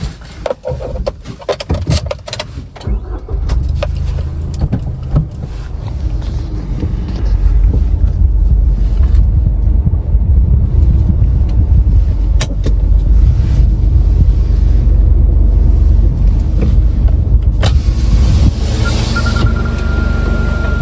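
A vehicle heading to market, likely a tractor given the talk of filling diesel: it starts with clunks and door or handling noises, then the engine rumbles steadily louder as it drives off, with wind buffeting.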